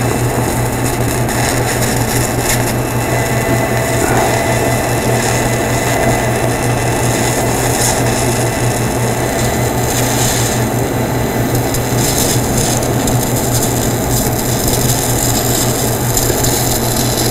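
TIG welding with a 1/16 inch filler rod gives a continuous, close buzzing hiss over a steady low electrical hum, unbroken for the whole stretch with no talking.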